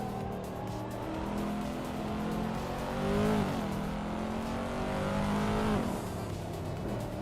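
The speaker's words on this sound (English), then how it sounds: "Amy is driving a Wisman GTM F5, a rare and stylish choice." A Wiesmann GT MF5 race car in a racing video game drones steadily at high revs, with brief pitch dips and climbs at gear shifts and a faint tire squeal, loud and continuous throughout.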